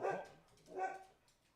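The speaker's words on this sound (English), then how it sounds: "that's my dog Shasta barking, deciding to let everybody know that she is around" A pet dog gives two separate barks, each followed by a fading tail, heard fairly close and with no talking around them.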